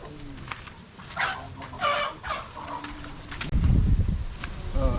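Turkey chicks and their hen make soft chirps and clucks close by, with a louder, rougher burst of fowl calling and rustling near the end.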